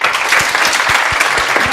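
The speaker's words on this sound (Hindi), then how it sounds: "एक बार दोनों महिलाओं के लिए तालियां।" A lecture-hall audience breaks into brisk applause for two women, a short burst of dense, loud clapping with individual hand claps standing out.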